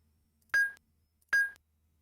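Two identical short electronic beeps from a station in the game Myst, spaced under a second apart, clear and isolated against near silence with no talking.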